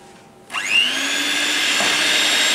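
An electric mixer starts up abruptly and runs steadily, beating softened butter into an egg mixture for a vanilla butter cake, a continuous loud whirring drone with no talk.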